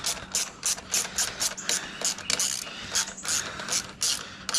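Ratchet wrench snugging a carburetor bolt on a Husqvarna push mower, giving a quick run of close, crisp clicking pawl strokes in uneven bursts with no talking.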